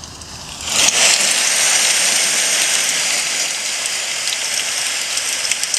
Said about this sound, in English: my perfect sound is a mix of thunderstorm, rain, window, and rain on this app that I get